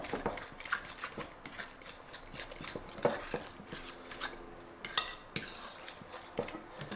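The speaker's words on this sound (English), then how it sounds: "So we're actually going to start mixing that in here as well." Scraping and clinking of a utensil in a bowl while a keto cinnamon roll mix is stirred, with irregular taps and metallic knocks and no voices.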